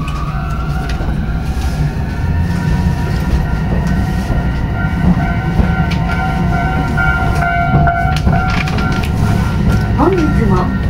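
Tokyu Setagaya Line tram bound for Sangen-jaya in Tokyo, heard from inside: a steady low rumble with sustained whining motor tones and occasional rail clicks, loud and continuous throughout.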